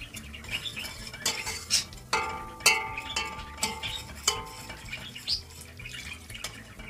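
Chicken broth poured into soup and stirred: repeated spoon clinks and scrapes against the pot, with a wet sloshing stir between them, close and moderately loud.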